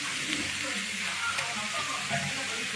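Carrot dosa frying on a hot pan, giving a steady, close broadband sizzle that holds at an even level throughout, with faint clatter now and then.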